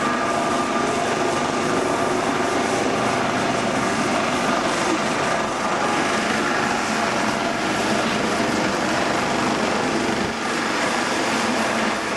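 A Coast Guard helicopter hovers overhead, giving a loud, unbroken roar of rotor and engine that fills the whole stretch.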